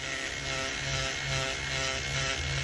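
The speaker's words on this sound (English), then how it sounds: "When you're using your porting tool or your Dremel, whatever tool you use, don't put too much pressure on it." A Dremel-style porting tool grinds the plastic intake manifold of a 392 Hemi, producing a steady, close, high buzzing whine throughout.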